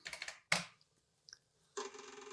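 Someone types a command on an Apple II computer keyboard, producing a quick cluster of close, crisp key clicks, a louder thump, a pause with a few faint taps, then a steady buzzing tone.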